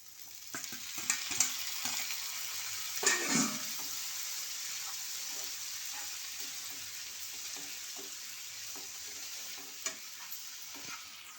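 Finely chopped tomatoes fry in a pan for black pepper prawn thokku, giving a soft continuous sizzle with occasional spoon scrapes and stirs up close and no voices.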